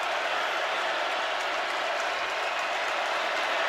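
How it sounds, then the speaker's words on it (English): A football stadium crowd at a Georgia Bulldogs versus Florida Gators game roars and cheers steadily for the home defense, a broad, distant wash of noise with no clear talk. "Georgia crowd coming to life for their defense."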